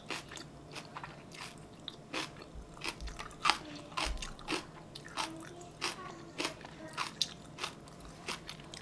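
Close crunching and chewing while eating bibimbap, a steady run of crisp bites and wet mouth sounds at a soft, intimate level with no talking.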